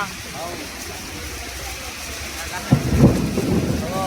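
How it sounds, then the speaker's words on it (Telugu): Steady heavy rain hiss in Hyderabad fills the background while a voice talks intermittently; a low rumble of thunder swells near the end. "వాన పడుతుంది, ఫుల్ వాన పడుతుంది అని చెప్పు"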